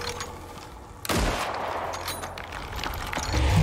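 Rapid gunfire crackles in the shooter game Icarus, a burst of automatic shots breaking out after a quieter start and continuing in dense volleys.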